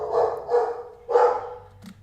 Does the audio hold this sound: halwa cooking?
no